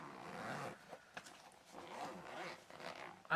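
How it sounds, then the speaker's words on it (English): A zip is pulled around the case of an Alphatek Tek 837 True RMS clamp meter, making a close, raspy ripping sound in uneven strokes over about three seconds. "Let's pull that zip all the way around."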